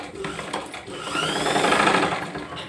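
A sewing machine runs a short burst of stitching on a V-shaped sleeve patch, its whir rising and then easing off, with a voice speaking underneath.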